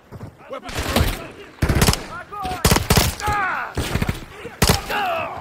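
Loud rapid gunfire in Call of Duty Modern Warfare 3 on a frozen tundra: several sharp bursts of automatic shots with gaps between them, close and punchy, with voices shouting between volleys.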